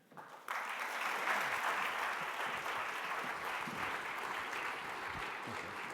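After a brief quiet moment, a housing summit audience bursts into applause for a councilmember, with dense, even clapping holding strong through to the end.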